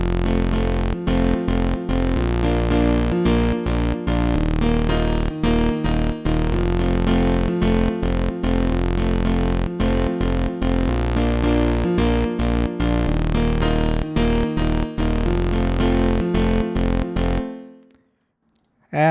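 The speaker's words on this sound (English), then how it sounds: "Throw that in with our piano, and it sounds like this." A synth bass riff repeats in a steady choppy rhythm alongside piano chords following the changes, a full continuous loop that cuts off near the end, with no talking.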